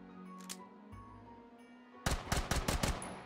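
A gun in the VR game Hot Dogs, Horseshoes & Hand Grenades fires on full auto, a quick run of loud, sharp rattling shots that follows a couple of softer clicks and thuds.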